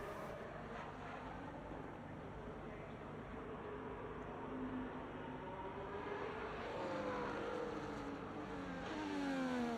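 Race cars, including an Aston Martin, accelerate around the Circuit of the Americas in a racing video game, a steady loud engine roar with rising gear tones throughout, no voices.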